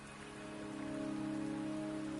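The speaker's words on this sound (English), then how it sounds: "The rain is subsiding, and the sky will soon clear." Rain falling in the Wuthering Waves game: a faint, steady patter of raindrops on a surface that swells slightly, with a sustained tonal hum underneath and no talking.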